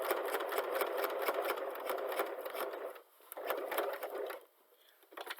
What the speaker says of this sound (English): you continue stitching until you come up, until you're satisfied